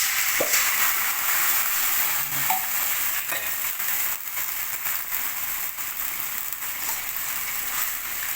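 Sardines frying in a pan with garlic and onion, a steady close sizzle with faint clinks of utensils against the pan, no voices.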